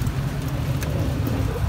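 Heavy rain falls outdoors around a large old tamarind tree, a dense, continuous hiss of drops close by with no clear pauses.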